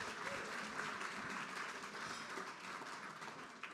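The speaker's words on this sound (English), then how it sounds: "How about a big round of applause once again" Round of applause for Buck Sexton at a Freedom Frontline event, continuous dense clapping from an audience, faint and distant, holding steady throughout.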